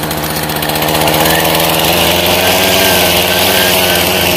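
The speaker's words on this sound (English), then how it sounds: "Alrighty, before we end, we gotta do some weed whacking." A steel-line string trimmer cuts overgrown grass around rocks, its small engine buzzing loud and close with a steady, slightly pulsing drone throughout.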